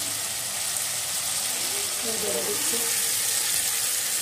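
Garlic paste and spices sizzle steadily in a pan with a splash of water, a constant hiss with a soft stirring scrape in the middle, beneath a few quiet spoken words.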